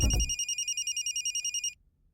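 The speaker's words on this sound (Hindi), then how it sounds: "फोन।" A telephone bell rings loudly and close by in one rapid trilling burst of about one and a half seconds, then cuts off into near silence.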